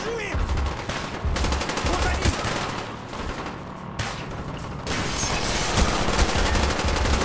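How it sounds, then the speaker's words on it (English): Rapid automatic gunfire from an AK-47 with a red dot sight in Call of Duty: Black Ops on PC, sustained bursts and fusillades rattling loud and dense throughout, with a voice talking briefly over the shooting. "Oh, somebody's shooting that way."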